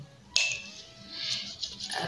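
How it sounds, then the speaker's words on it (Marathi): A coin drops into a small clay pot holding a little water with a single sharp clink, followed by a brief faint ringing and light handling noises. "बळक्यात पैसा हलकून टाकून घेऊ."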